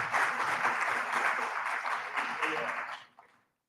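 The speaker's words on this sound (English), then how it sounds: "Please applaud." Audience at a Jewish community conference in Madrid breaks into steady, full applause for a panelist, a dense wash of clapping that holds for about three seconds and then quickly dies away.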